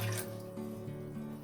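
Water being poured into a pot on a gas stove while making Ayurvedic kadha for cough and cold, a short, soft liquid trickle with a faint ringing tone, quiet and alone.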